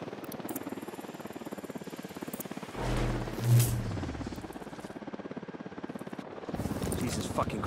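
A video game helicopter thrums with a steady rhythmic rotor chop at moderate level, swelling briefly near the middle with a louder burst and engine whine.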